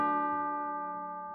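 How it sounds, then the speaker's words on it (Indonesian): A single bell struck for twelve o'clock in a children's Halloween song, a bright clear ring with a long, slowly fading sustain. "Jam 12, dia dengar bel."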